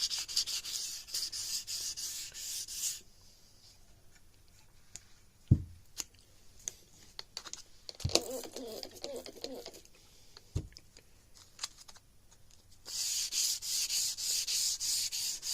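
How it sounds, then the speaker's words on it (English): Wet sanding through an old wood finish by hand, steady rhythmic rubbing strokes at the start and end, with quieter handling taps and scuffs between them and no talking. "We're going to sand through this."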